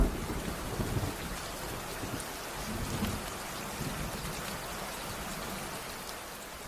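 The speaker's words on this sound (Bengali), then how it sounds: "হঠাৎ করেই তখন ঝিমঝিম করে বৃষ্টি শুরু হয়।" Steady rain falls with distant low thunder rumbling beneath it, a continuous dense hiss of drops at even loudness with no voices, heard outdoors under a banyan tree in a village pasture.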